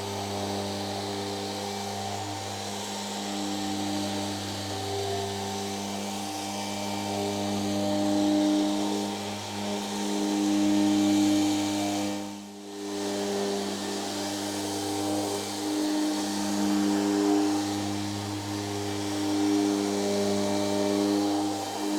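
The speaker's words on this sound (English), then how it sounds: "the 240 on the orbital works really well to just get it all super smooth" An orbital sander with 240 grit sandpaper smooths a wooden blank, giving a steady close motor hum with a layered drone that runs without break and dips briefly once midway.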